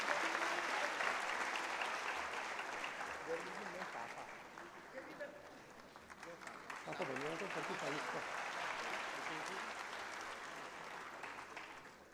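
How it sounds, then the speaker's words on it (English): Conference hall audience of chartered accountants applauds for the Vice President of India as chief guest: sustained, even clapping throughout, with a voice briefly audible over it partway. "Big round of applause, ladies and gentlemen."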